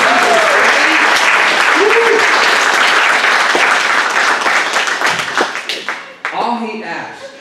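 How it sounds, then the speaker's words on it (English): A church congregation claps in praise: steady, dense applause fills the room for several seconds, with a few voices calling out, before the clapping thins and fades. "would you thank God and clap and give God a praise?"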